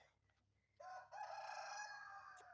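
A rooster crows once, loud and close, a long strained call that holds for over a second in a quiet setting.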